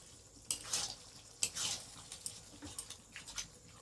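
Chicken and wings frying in a pan with blended sour yogurt for a Bengali kosha, stirred with scraping strokes over a soft sizzle, in irregular close bursts.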